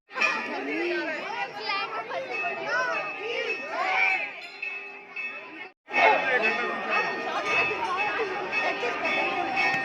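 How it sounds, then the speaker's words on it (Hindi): Dense chatter of many voices fills a crowded Hindu temple queue during Navratri, near and steady with occasional children's shouts and a brief hush midway before the babble resumes. "तो आगे नहीं बढ़ा जा रहा है, बहुत भीड़ है"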